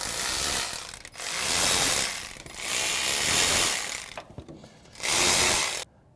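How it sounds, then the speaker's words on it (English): A ratchet loosening the rocker shaft bolts on a Ford F-250 engine, with close, rapid clicking bursts of a second or so, separated by brief pauses and shorter bursts. "You have to slowly remove all the bolts equally out so it doesn't damage the rocker shaft."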